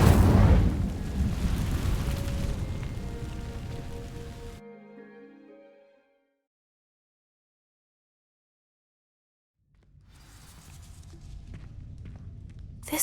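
In a video game, an Incendio fire spell ignites dry vines, loud crackling and roaring flames that fade away into silence before a softer crackling rises again near the end.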